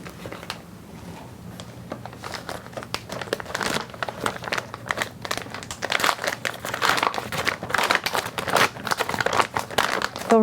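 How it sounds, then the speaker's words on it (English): Crinkling plastic wrapping on a central line (PICC) dressing kit crackles continuously at close range for about ten seconds, growing louder and denser toward the end, with no talking. "We'll remove the plastic wrapping and put that into the trash."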